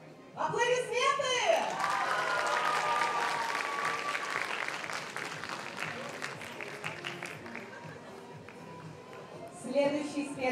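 Loud, sustained audience applause at a cosplay festival's special-prize ceremony, a dense crowd clapping for several seconds that slowly thins, with a voice speaking over the start and again at the end.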